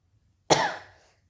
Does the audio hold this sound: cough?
yes